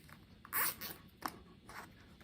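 Quiet ratcheting rasps of a zip tie being pulled tight around a fall lantern swag, a few short zipping bursts close by with soft handling noise between them.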